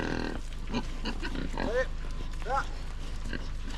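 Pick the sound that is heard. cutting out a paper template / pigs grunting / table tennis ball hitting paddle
pigs grunting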